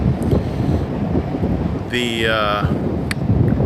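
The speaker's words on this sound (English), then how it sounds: "it's windy here" Blustery wind buffets the microphone with a constant rough rumble, and a brief tonal whine cuts through midway.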